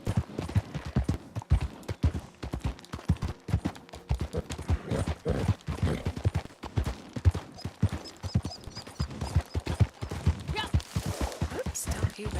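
Hooves clip-clop in a steady gallop as a horse runs along twisty roads in the video game Red Dead Redemption 2 Online, close and continuous, with talking over it throughout.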